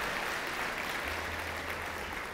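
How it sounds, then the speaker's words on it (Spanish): A church congregation applauding, a dense sustained clapping from many hands at medium distance, steady throughout with a low hum beneath. "Dele un aplauso al Señor si usted lo cree."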